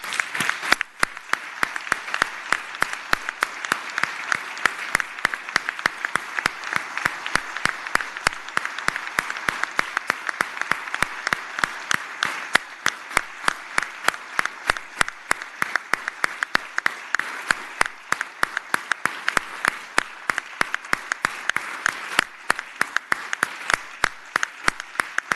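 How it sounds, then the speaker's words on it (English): A sustained round of applause fills the Virginia Senate chamber for about twenty-five seconds, made of dense, even clapping from many hands at steady strength, with almost no speech. "One more time, let's give them a round of applause."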